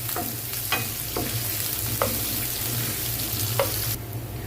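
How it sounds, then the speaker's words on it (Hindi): Onions frying in cooking oil over a medium-low flame until light brown give a steady close sizzle, with a few short scraping stirs scattered through and no voices. "अब ये जो प्याज है, ओनियन है, इसको हम लाइट ब्राउन करेंगे।"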